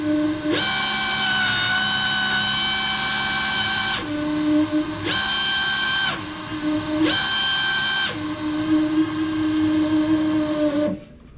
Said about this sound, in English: Now if I take this wire and I go to 12 volts, this is full speed of the pump.